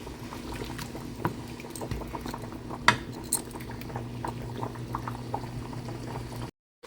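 Water boiling in a pot of catfish curry, a continuous bubbling burble with a few utensil clinks and light knocks, close and moderately quiet, cutting off abruptly at the end.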